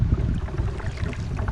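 Strong wind gusts buffet the microphone on the Napa River from a Hobie Compass kayak, a low, loud rumbling roar with uneven surges and light water noise, steady through the moment.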